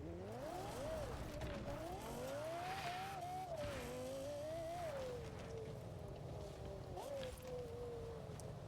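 A high-pitched racing car engine in Forza Horizon 4 whines steadily, its pitch climbing and dipping with gear shifts, with a thin, slightly hollow tone throughout.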